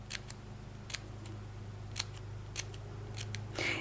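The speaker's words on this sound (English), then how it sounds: "I just come and just snip, snip, snip the whole way." Scissors snip through a small piece of card for a graduation gift card holder, a series of sharp, close, separate cuts spaced unevenly with a slightly longer crunch at the end.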